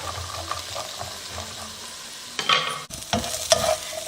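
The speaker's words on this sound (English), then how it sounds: "I'm gonna add my green beans in it and put them over the stove to stir fry" Green beans stir-fried in vegetable oil on a stovetop, a soft crackling sizzle with rhythmic stirring, then louder bursts of frying and scraping toward the end, close up with no talk.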